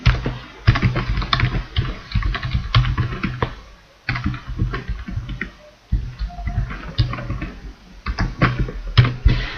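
Steady typing on a computer keyboard, close and fairly loud, with dense irregular key clicks running continuously and brief pauses between bursts.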